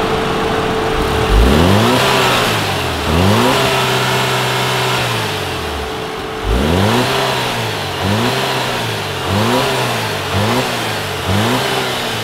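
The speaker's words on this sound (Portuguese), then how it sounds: "vamos ver o jeito que é o ronco dele na hora que você dá umas aceleradas" A car engine with its completely original, unmodified exhaust is revved hard several times, each burst climbing and falling back toward idle in a loud, deep roar, with no talking.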